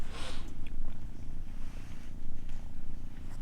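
A cat purrs steadily and close in a dugout near Vuhledar, a low continuous rumbling with a brief rustle at the start.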